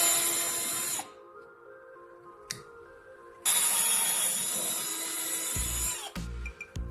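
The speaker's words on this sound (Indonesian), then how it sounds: "Letakkan tutup stoples logam pada papan dan bor lubang menembus keduanya." A power drill whines loudly through a metal jar lid and a board, stops briefly, then grinds again in a second long burst before winding down with a few clunks.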